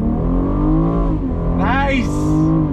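A BMW M440i convertible accelerates hard on throttle, its engine rising in a loud, close, smooth roar with a quick upward pitch sweep, while someone talks over it.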